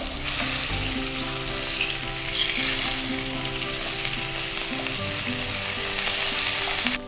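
Spice powders fry in hot oil for chicken cafreal, giving a loud, continuous close sizzle with faint stirring scrapes and no talk.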